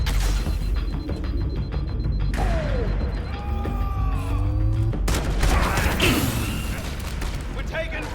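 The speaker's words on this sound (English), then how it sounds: "We're taking fire!" Gunfire in the Halo video game crackles in rapid bursts alongside mechanical clanks and clicks, with a player talking over the shooting.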